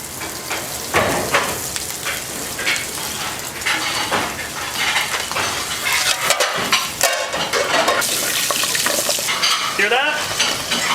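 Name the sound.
pig's foot meat frying and sizzling in a pan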